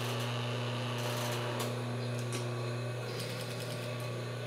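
A sewing machine stitches a folded hem on children's shorts, running as a steady, continuous mechanical hum with light rhythmic clatter, close and alone.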